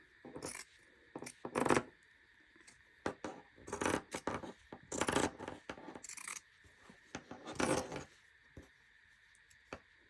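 Scissors snip around the edge of punch needle fabric, leaving a border, in a run of separate close cutting bursts with slight rasping scrapes between them and no speech.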